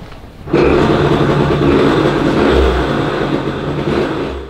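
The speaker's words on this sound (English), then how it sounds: "I could have swore I heard the engine." A small street-legal Japanese motorcycle engine suddenly starts up and revs hard, holding a loud, buzzing drone that rises and falls before easing slightly.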